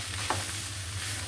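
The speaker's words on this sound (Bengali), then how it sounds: "শুধু পেঁয়াজ কাঁচামরিচ এগুলি দিয়ে শুধু মাংসটা আমি একটু ভালো করে ভেজে নেব।" Meat frying in a pan with onion and green chili, a brief close, steady hissing sizzle with one faint scrape of a stirring utensil.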